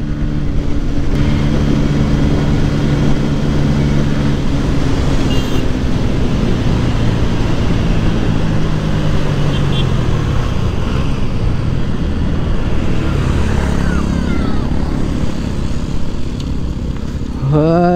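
A five-speed motorcycle engine drones continuously at full volume on a road ride from Kolkata to Kolaghat, with wind rushing past and the pitch shifting as the rider changes speed.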